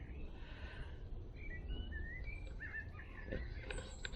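Birds chirp and whistle faintly in a quiet country lane, several short phrases over a steady outdoor background, with a low rough call near the end that fits a crow cawing.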